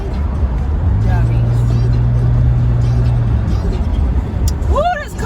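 A car's engine and road rumble run steadily and loud from inside the vehicle, with a brief low hum partway through and a voice talking over it.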